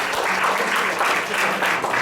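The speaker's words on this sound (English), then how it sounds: "can we give World Ventures a round of applause, please?" An audience at a business presentation claps steadily for the whole stretch, a dense, even wash of applause with no voices standing out.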